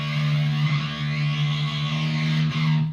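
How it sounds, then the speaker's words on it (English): Electric cello played through an extreme distortion effect patch, a sustained buzzing low note thick with harsh overtones, holding steady and loud throughout with slight wavering. "extreme distortion. Let's see this one."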